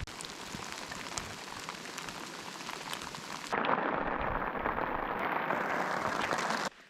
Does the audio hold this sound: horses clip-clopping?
no